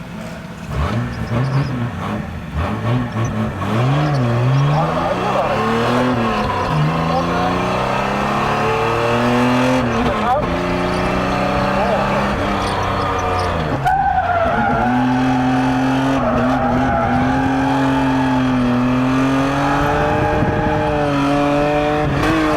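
A race car with a tight dog-box shifter drives hard, its loud engine rising and falling in pitch through repeated gear changes, with tire squeal mixed in throughout.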